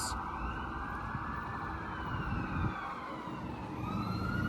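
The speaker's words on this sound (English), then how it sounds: "what a way to start off the video is we have some sirens" Several emergency sirens from a fire truck and police vehicles wail together, rising and falling steadily, mixed with the low rumble of city traffic at a moderate distance in downtown Toronto's Financial District during a polar vortex.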